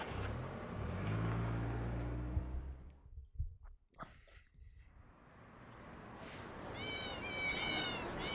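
A man imitates cat meows during play of the video game Yakuza 0: a few faint, high, wavering mewing calls come near the end, over steady game background noise.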